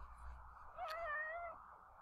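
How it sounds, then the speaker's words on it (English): A cat on a lap lets out a single drawn-out meow near the middle, close and clear, with a low steady hum underneath and no talking. "here's your favorite kitty, my favorite kitty, who may or may not stay here on my lap while I do this"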